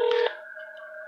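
Telephone dialing tones: a brief touch-tone beep followed by a steady held tone, close and clear with no voices.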